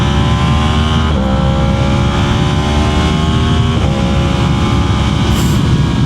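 A Yamaha MT-10 motorcycle engine pulls hard with the throttle rolled about a quarter open, a loud, continuous close-up roar with rising engine pitch and two brief shifts in tone, with no talk over it.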